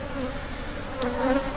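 Bees buzzing around an open hive during hive combining and queen introductions, a steady dense drone close by with a slight swell near the end.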